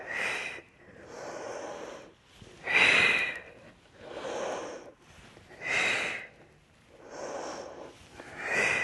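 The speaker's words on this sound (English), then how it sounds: "You can hear my breathing, and that's on purpose because you're really going slow with control." Slow, deliberate breaths during a yoga Pilates workout, audible inhales and exhales in a steady rhythm, close to the listener with no talking.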